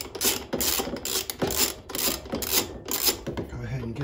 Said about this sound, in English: go ahead and remove our vibration bracket bolt back here. And that's an 8 millimeter socket.